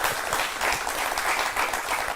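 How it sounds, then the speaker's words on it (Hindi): An audience claps in a televised discussion programme, producing steady, dense applause that continues unbroken throughout. "अगर नहीं मालूम थी फिर बजाई ताली"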